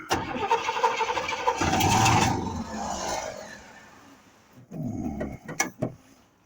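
A 1971 Buick Skylark engine cranks and then catches with a rough burst of revving, settles briefly, and is followed by a second short crank and sputtering catch, with mechanical clatter between attempts.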